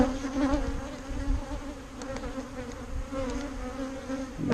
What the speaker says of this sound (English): So they're queenless, so they're kind of a little feisty, and this was my feisty hive to begin with.